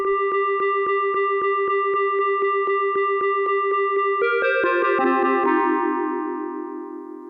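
An Arturia MicroFreak synthesizer plays an FM synthesis patch, a bright bell-like note pulsing in an even rhythm, then shifting into layered descending tones that ring out and fade.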